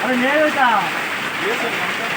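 Steady rain hisses across the whole clip while a person talks over it.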